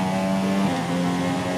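An F1 car in the video game F1 2017 accelerates hard in a race in China, a loud, steady engine whine that steps to a new pitch briefly partway through.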